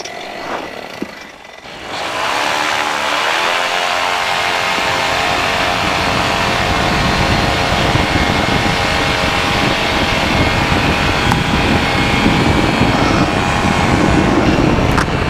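A sub-70 flexwing microlight's engine catches after a brief quiet pause and settles into a loud, steady buzzing drone with its propeller turning, continuing without a break.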